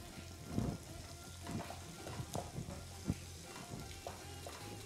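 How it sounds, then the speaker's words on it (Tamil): Chopped tomatoes frying in a pan with onions and green chillies, stirred with a spoon: a steady oily sizzle broken by soft scraping and clinks of the stirring, close and moderately quiet. "இப்போ தக்காளி தக்காளியை போட்டு கொஞ்சம் நேரம் கிண்டலாம்."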